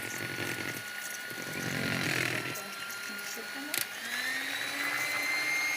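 An electric hand mixer beats chilled butter for Azerbaijani-style cookies, a steady motor whine running close and continuous throughout, with a brief clatter near the end.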